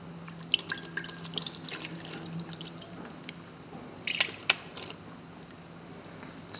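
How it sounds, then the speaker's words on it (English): Starchy soaking water drains off cut, peeled potatoes through a sieve in a home kitchen: a soft, continuous trickle with scattered drips and a few sharper splashes, close and fairly quiet. "sieve off the water"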